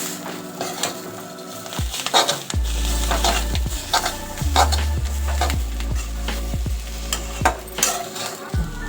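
Fresh chickpea leaf greens (harbhara bhaji), village style, cook in a pan with a steady low sizzle, broken by repeated sharp scrapes and knocks of a stirring spoon against the pan, close and continuous.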